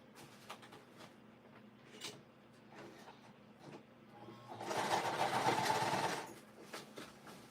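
A sewing machine stitches a gusset in a sewing workspace, breaking into a steady, fairly loud whirring burst of about a second and a half after quieter handling noises and rustling.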